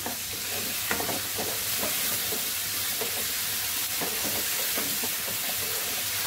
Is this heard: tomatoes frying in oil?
yes